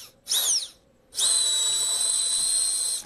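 A sick person's voice producing a high, whining drill-like tone, a short squeal followed by a long sustained steady whine, loud and close; the voice imitates a power drill.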